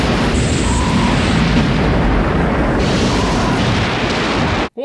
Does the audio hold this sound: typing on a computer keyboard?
no